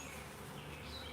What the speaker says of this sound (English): So I can see the bees are already getting a little antsy because they know something's going to happen